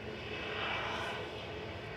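A World2Fly Airbus A330 passes over Manchester Airport, a steady broadband engine roar that swells slightly midway through a brief two-second stretch, heard alone with no talking.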